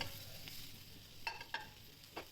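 Green chillies sautéing in a pan, a faint low sizzle with a few sharp stirring clicks and scrapes, quiet and close.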